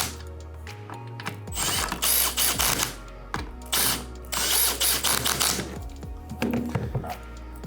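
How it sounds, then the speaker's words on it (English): A ratchet tightens the bolts on an Intrepid office chair armrest: close, crisp runs of rapid clicking in several separate bursts with short pauses between them, no voices. "then we can screw the bolts back in and snug everything real tight."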